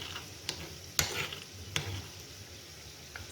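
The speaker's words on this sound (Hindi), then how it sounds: "देखिए हमारे चने बहुत अच्छी तरह भून चुके हैं।" Chickpeas roast in a pan with a soft sizzle, broken by a few sharp scraping stirs and clicks of a spoon against the pan. No one talks.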